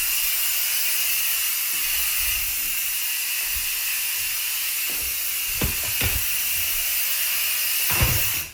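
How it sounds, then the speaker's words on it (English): An aerosol flea spray can hisses steadily as it is sprayed across a floor, a continuous close, fairly loud hiss running the whole time with a few soft knocks and taps near the end. "I'm going to start by spraying within all of these areas."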